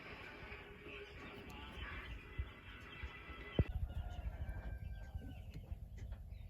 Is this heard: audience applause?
no